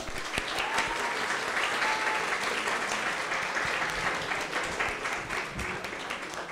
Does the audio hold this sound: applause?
yes